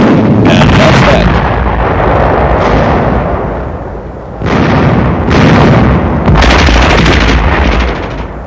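Incendiary magnesium charges blast apart an enemy supply shack in snowy winter combat, a loud sustained roar of explosions with several sharp bursts and booming surges, alone without speech.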